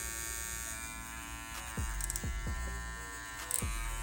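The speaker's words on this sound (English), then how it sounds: "I may have to adjust some of this metal in here to keep them from rattling." JRL Onyx hair clipper running with a loose-fitting guard, a steady close electric buzz joined by several short metallic rattles and taps toward the middle and end.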